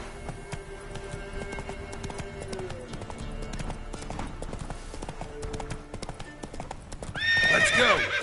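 Horse galloping in The Witcher 3 video game, rapid steady hoofbeats under game music, ending in a loud whinny.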